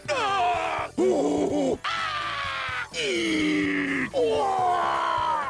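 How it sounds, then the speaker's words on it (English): Robots from the Sonic Adventure video game scream in agony, in unused game audio: four or five loud, drawn-out synthetic wails and groans with a strained tone, each falling in pitch, one after another with short gaps between them. "Apparently the robots were meant to scream in agony at one point when Eggman wipes them off the egg carrier."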